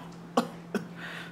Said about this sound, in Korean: 타이밍이 참 좋게 기침이 나오시네